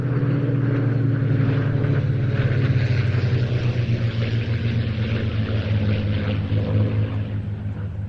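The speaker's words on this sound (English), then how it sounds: "coming in for their final pass, the amazing Spitfire trio" Three Spitfires with Rolls-Royce Merlin engines flying past at an airshow, a deep sustained engine drone with a slowly shifting, throbbing pitch, loud and steady throughout with no talking.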